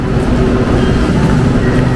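An LRT commuter train in Manila, Philippines rumbles steadily and loudly from inside, a continuous low roar with a faint hum and no pauses.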